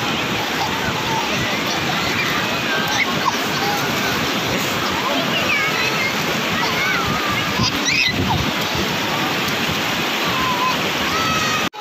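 Sea waves wash onto Clifton Beach (Sea View) in Karachi, a dense, continuous roar of surf and splashing water that stays loud and close throughout, with faint voices mixed in.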